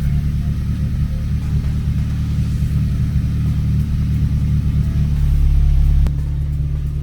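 An Acura ILX car engine revs while warming up to operating temperature, a steady, loud low rumble holding for several seconds and swelling briefly near the end before settling back.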